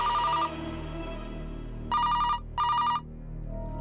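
A telephone bell rings in three loud bursts, one short ring, a pause, then two rapid rings close together, sharp and near, with no talking over it.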